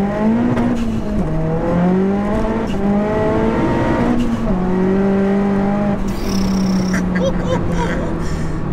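A fully forged, big-turbo 480 bhp Seat Leon Cupra R pulling hard in second gear, its engine note rising steadily and loud from inside the car, with brief shifts in pitch and some faint voices underneath.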